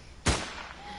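A single gunshot cracks from a video game shooting gallery, a sudden loud report that fades quickly over faint background hiss, followed by a soft sustained tone.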